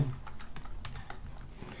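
A computer keyboard used for the Ctrl+T shortcut while building a table in Excel, giving a quick run of light, close keystroke clicks with no speech.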